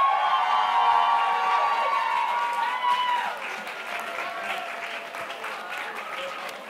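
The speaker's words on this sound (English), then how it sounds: "So please give a big round of applause for our Bachelor of Arts candidates." Applause and some cheering from the audience at a university commencement ceremony, loud and full at first, then easing to a steadier, quieter clapping while people call out and talk underneath.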